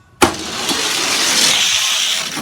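Hot Wheels die-cast toy cars, a McLaren and a Boss 302 Mustang, racing down a track: a sudden start followed by a steady, close rolling whoosh that holds for about two seconds.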